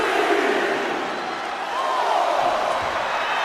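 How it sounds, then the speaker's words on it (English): A crowd in the WWE 2K25 wrestling video game roars steadily as Goldberg wrestles, a loud, dense, sustained wash of cheering. "The WWE Universe rumbling with excitement as Goldberg goes to work here."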